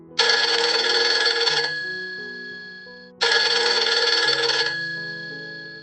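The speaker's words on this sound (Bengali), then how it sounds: "ফোনের রিং বাজার শব্দ।" Two long bursts of a telephone bell ring loudly and close, each about a second and a half, separated by a pause with a fading tail after each burst, and no voices.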